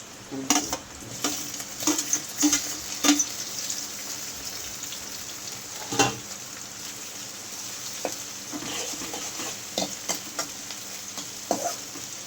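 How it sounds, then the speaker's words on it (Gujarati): Poha (flattened rice) frying in a pan, a steady soft sizzle broken by irregular scraping and stirring clicks, fairly faint and close, with no talk. "થોડું ફ્રાય થઈ જવા દઈએ તો આપણે ફ્રાય થઈ ગયું"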